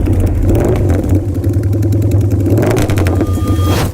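BMW R20 concept motorcycle with a 2000cc air/oil-cooled boxer engine runs loud and close, a steady low throbbing rumble that swells and revs, with no talk over it.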